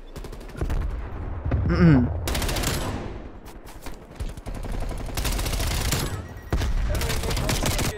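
MP5 submachine gun fire in Call of Duty: Black Ops Cold War comes as loud, dense automatic bursts with several pauses and a short tonal effect between them, while someone speaks briefly.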